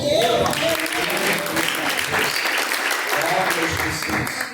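Church congregation applauding at a live evangelical service, dense clapping filling the room, loud and steady throughout, with some voices and shouts mixed in.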